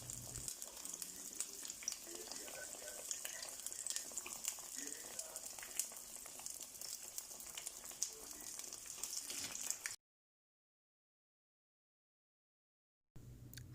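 Orange biscuits frying in hot oil, a soft, continuous sizzle with scattered crackles and pops, fairly quiet and steady for about ten seconds before cutting out, then returning briefly at the end.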